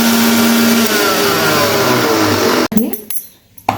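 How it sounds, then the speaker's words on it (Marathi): An electric kitchen mixer grinds karvand chutney with grated coconut and a little water, a loud steady whirring drone that cuts off abruptly near the end, followed by clatter and quieter handling noises. "आणि आता मिक्सरला लावा."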